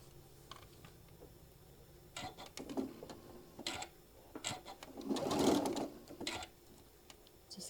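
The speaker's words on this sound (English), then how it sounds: "go ahead and sew it" A sewing machine stitching table runner pieces in short quiet bursts separated by pauses, with light clicks and fabric handling close by.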